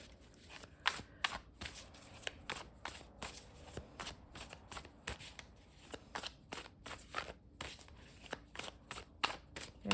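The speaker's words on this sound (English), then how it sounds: "So let's kind of shuffle with intention here." Tarot cards are shuffled by hand in a quick, steady run of soft riffling snaps and slides, close and quiet, with no talking.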